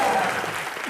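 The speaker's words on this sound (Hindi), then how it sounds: "जरा जोरदार तालियां हो जाए इन दोनों के" Dense studio audience applause at a television comedy show, loud and continuous for a brief moment, with a voice faintly underneath.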